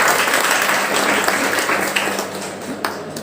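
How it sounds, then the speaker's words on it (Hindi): An audience at a Hindi Day event at a public school gives loud, dense applause to welcome arriving guests, the clapping strong at first and then slowly fading. "इनके लिए जोरदार तालियां।"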